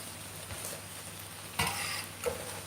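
Water drizzled into a hot cooking pot with jerk pork, spitting and sizzling in short bursts, a sharp hiss near the middle and another flare just after, close and fairly quiet.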